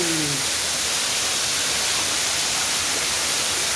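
Very heavy rain pours outside a garage during flooding, a loud, dense and unbroken roar of hiss that fills the whole stretch, with no voices.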